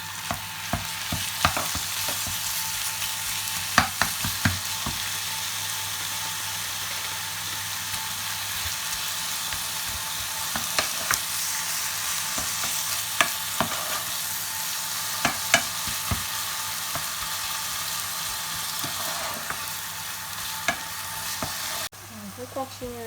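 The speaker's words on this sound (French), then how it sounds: "Vous y ajoutez ensuite votre viande hachée." Minced meat frying in a pan for lasagne, a steady loud sizzle broken by frequent sharp scrapes and clicks of stirring, continuing without talk.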